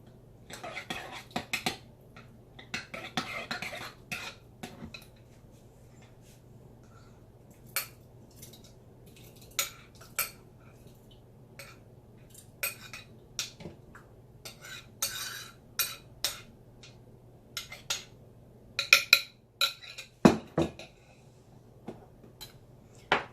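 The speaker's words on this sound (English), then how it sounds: "So you just spoon this out into your jar." Garlic preserved in oil is spooned into washed, sterilized glass jars, with sparse, sharp clinks and taps of a spoon against glass, close and intermittent over a quiet background.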